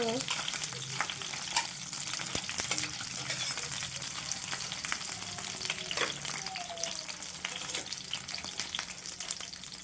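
Eggplant halves fry in hot oil with a steady, continuous sizzle and crackle throughout, close and fairly even, with occasional faint clinks of a utensil.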